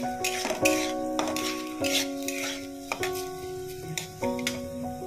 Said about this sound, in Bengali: এবার আমি এই যে ধুয়ে রাখা গোবিন্দভোগ চালটাকে এর মধ্যে দিয়ে দেবো।